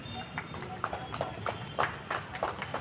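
Horse hooves clip-clop in a steady, moderately paced rhythm, somewhat distant, at an equestrian competition in Maharashtra, India, over a low background rumble with people talking faintly.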